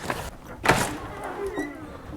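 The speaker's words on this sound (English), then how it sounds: "Squeaky door." A squeaky door in a poorly rated hotel in Llandudno swings open with a short creak and a louder thud, followed by a faint drawn-out squeal, close by in a quiet room with light background noise.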